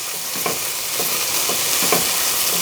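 Halibut sizzles on a hot griddle with a steady, close frying hiss, broken by a few soft scraping stirs and flips, and no one speaks.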